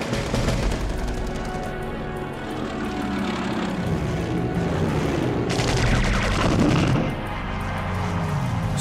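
Battle of Britain dogfight between RAF fighters and Luftwaffe Me 109 escorts, with a roaring piston engine drone and bursts of rattling machine-gun fire, loud and dense, swelling near the end.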